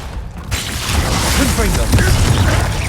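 Glacius freezing spell cast in Hogwarts Legacy, a sudden loud icy burst that swells into a dense crackling, grinding rush lasting a couple of seconds, with speech partly over it.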